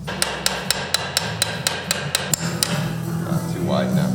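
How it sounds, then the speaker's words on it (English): Rapid hammer strikes, about ten sharp evenly spaced blows, ring out during a 2JZ engine install in a 240SX build, then give way to shop noise and faint voices. "Hammer that sucker."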